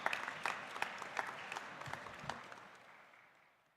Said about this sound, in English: let's put our hands together and welcome with a big round of applause